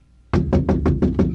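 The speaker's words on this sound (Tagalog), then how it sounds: "Marina, buksan mo ang pintuan." A fist pounds on a wooden door in a rapid burst of seven heavy, evenly spaced knocks that start abruptly after a quiet moment, loud and close with no voices.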